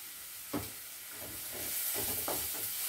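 Ginger paste and asafoetida sauté in a pan for moong dal adai, giving a soft, steady sizzle broken by a few faint scrapes of stirring.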